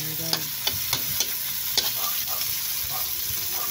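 Sliced potatoes, onion, garlic and tomato sizzle steadily in a hot pan with oil while a spoon scrapes and stirs, giving sharp clicks and scrapes over the constant frying hiss.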